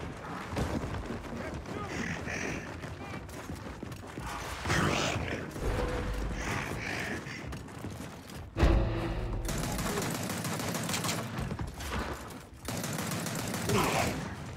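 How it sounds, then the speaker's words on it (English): Bursts of gunfire and mechanical weapon clatter from Gears of War 4 on PC fill the scene, with rapid automatic volleys and a sharp heavy blast midway, while a player talks over the action. "Oh, why am I getting shot?"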